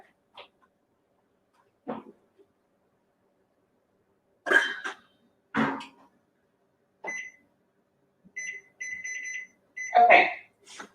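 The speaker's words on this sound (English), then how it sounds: "If you heard some beeping behind me, it's because my lentils were still like starting to boil over a little bit." Intermittent electronic kitchen beeping while a pot of lentils boils over on the stove: a steady run of short beeps from about 7 to 10 seconds, among scattered clatter and brief coughs or voice sounds.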